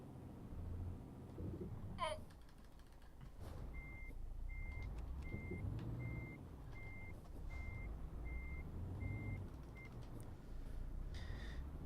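Evenly spaced reversing beeps from a truck in a trucking video game, about ten short tones over the steady rumble of the engine, with faint voices and other game sounds underneath.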